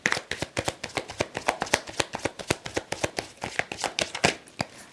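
A deck of tarot cards being shuffled by hand in a quiet room, a rapid run of crisp papery riffles and snaps that tick along steadily and close up, with no voices.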